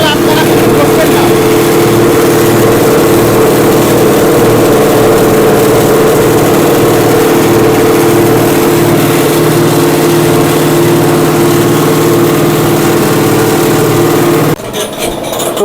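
A rice husk polishing machine runs at close range, a loud, steady droning hum with rough grinding texture that continues unbroken before dropping off abruptly near the end.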